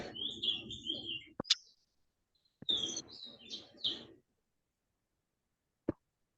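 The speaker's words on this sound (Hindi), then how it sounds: "कहाँ से चिड़िया की आवाज आ रही है?" Small birds chirp and tweet in short bursts of bright calls, a few clusters over several seconds with quiet gaps and a sharp click near the end, fairly faint and with no talking over it.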